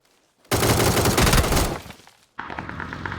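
A loud burst of rapid gunfire in PUBG on the Erangel map rattles for about a second and a half, fades, then a quieter crackle of shots picks up again after a short gap.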